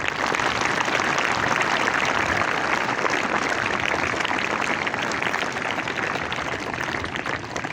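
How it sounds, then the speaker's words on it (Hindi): Students at a government high school applaud themselves during a motivational session, a full, sustained burst of many hands clapping at a steady, loud level throughout. "इसका इनाम आपको ये है कि अब एक ताली आप अपने लिए भी बजाएं।"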